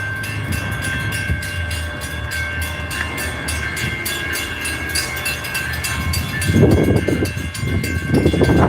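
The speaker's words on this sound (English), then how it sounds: "the train is coming." A train rumbles steadily as it pulls in and slows to a stop, loud and close, with a rising burst of braking and clatter near the end; no talk.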